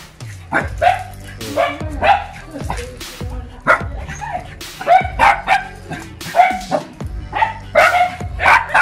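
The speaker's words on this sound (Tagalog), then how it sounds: "Yan yung aso nakakatayo na yan." A dog barks repeatedly in quick, loud bursts nearby, with some yips and whines mixed between the barks.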